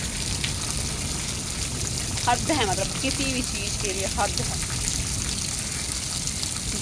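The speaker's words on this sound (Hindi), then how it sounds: "इतनी तेज बारिश है" Steady heavy rain hisses and patters close by on a courtyard filling with water, a dense continuous wash of noise, with someone speaking briefly over it.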